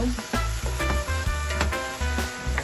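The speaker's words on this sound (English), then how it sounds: "I'm gonna add my sweet pepper and my garlic and a little hot pepper and a little bit of Scotch bonnet. I'm gonna saute that also." Sweet pepper, garlic, hot pepper and Scotch bonnet sauté in a hot pan for Jamaican steamed fish, a loud close sizzle with rhythmic stirring scrapes throughout.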